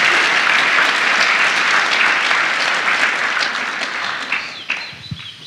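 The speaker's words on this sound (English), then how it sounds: "Yes, that's worth clapping for." An audience at a church service applauds in a dense, steady burst of clapping that tapers off toward the end.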